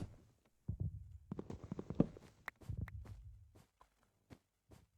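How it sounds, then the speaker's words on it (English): The Warden in Minecraft gives off a heartbeat of soft, low thuds in two irregular clusters, mixed with faint clicks and ticks. It is fairly quiet, with pauses between the groups of beats. "It's basically the heartbeat of the warden"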